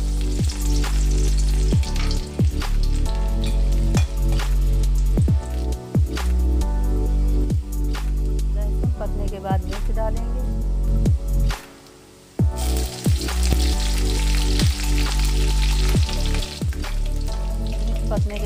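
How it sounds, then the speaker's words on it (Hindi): Garlic frying in oil in a kadai, giving a loud, continuous crackling sizzle with repeated stirring clatters, briefly dropping out near the middle before resuming at full strength. "कढ़ाई में थोड़ा तेल डालेंगे लहसुन डालेंगे"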